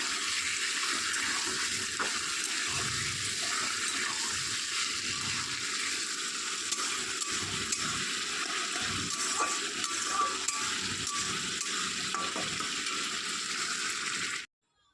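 Spiny gourd (kakrol) frying in hot oil in a wok, a steady broad sizzle that runs without a break for about fourteen seconds and then cuts off, with no voices over it.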